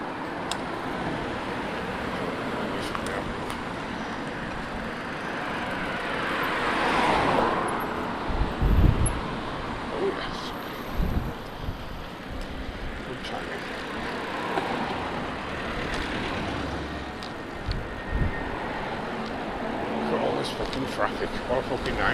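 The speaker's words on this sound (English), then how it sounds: "Traffic, what a fucking nightmare." Steady road traffic with cars and trucks passing near an e-bike ride, a continuous broadband roar with a few louder swells as vehicles go by, under occasional talk.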